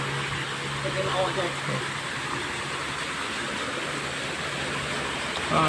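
Steady, dense roar of falling water from a waterfall in a temple garden at Wat Khlong Khwang, Lat Lum Kaeo, Thailand, constant and fairly loud throughout, with a faint low hum underneath.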